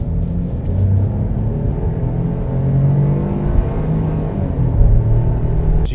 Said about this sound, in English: I'm gonna hit the accelerator a bit here.